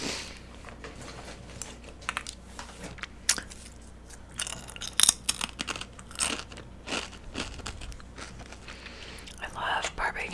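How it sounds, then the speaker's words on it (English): Barbecue potato chips crunched close to the microphone in a live ASMR stream, irregular crisp bites and chewing with soft whispered talk between them. "Sounds crunchy. What are you eating? Barbecue chips."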